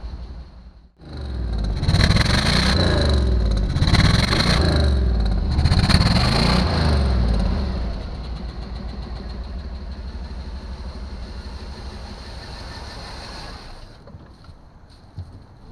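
A 1974 Chevrolet Nova engine starts up and idles close by, a loud, steady rumble with rhythmic revving early on, then settling to a lower, even idle before cutting out.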